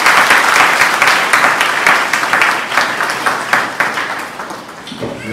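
A church congregation in Amli, Gujarat gives loud applause to the Father, Son and Holy Spirit, with sharp rapid claps throughout that grow thinner and more scattered toward the end.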